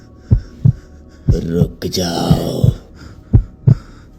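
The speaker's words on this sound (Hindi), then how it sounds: "और इसे सुनकर मेरी दिल की धड़कन तेज हो गई" Heartbeat sound effect in a Hindi horror story set on a foggy farm path: deep, loud double thumps pulsing at a steady rhythm, with a voice speaking briefly over the middle.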